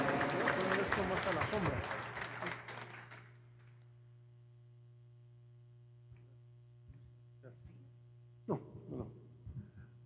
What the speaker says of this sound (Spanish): Lo recibimos con fuertes aplausos, por favor, Monseñor